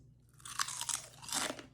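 Crunchy Walker's crisps being bitten and chewed up close, a few loud crunching bursts in quick succession with no talking.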